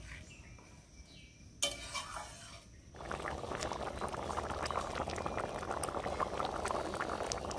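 Water boils over a high gas flame for egg tadka, starting with faint kitchen noise and a brief clatter, then a steady bubbling rush that fills the rest of the clip, no talking.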